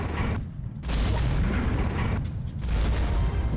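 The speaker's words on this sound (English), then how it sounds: "More super artillery." Super artillery explosions in the war strategy game Reich Mod, a sequence of heavy booming blasts with deep rumbling tails, loud and close, with no talk.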